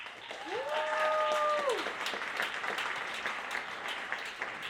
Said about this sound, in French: Applaudissez Raphaël Gagnon.